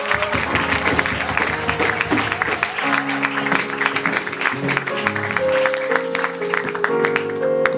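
A church congregation applauds to acclaim the Lord during a Sunday service in the DRC, a steady wash of clapping running throughout while music plays underneath.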